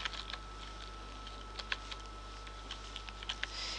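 A short word is typed on a computer keyboard, with a few quiet, close key clicks in an irregular pattern over a steady low hum.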